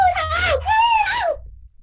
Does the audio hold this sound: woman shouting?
yes